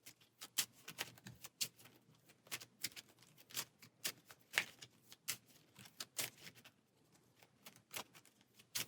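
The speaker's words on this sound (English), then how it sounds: "We'll go ahead and shuffle here." A deck of playing cards is shuffled for a solo Marvel Champions game, producing quick, crisp riffles and snapping taps in an irregular rhythm, close and fairly quiet with no talk over them.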